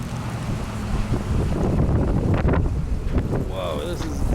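Strong wind in a downtown Regina snowstorm, a loud steady roaring rush of air buffeting the microphone, with a brief squeaky sound near the end.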